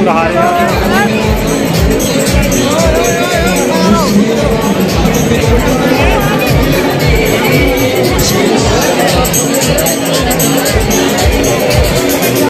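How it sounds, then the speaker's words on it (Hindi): Large crowd bustling at the old bus stand during the Shoolini fair in Solan, a loud, constant hubbub of many voices with rhythmic thumping underneath and a nearby voice talking over it. "आप देखिए सामने की कितनी ज़्यादा भीड़ है"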